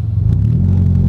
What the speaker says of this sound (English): Whoa, over revved.